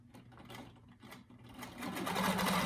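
A longarm quilting machine stitches free-motion swirls at 12 stitches per inch in precision mode, making a rapid, steady mechanical whir that builds louder toward the end.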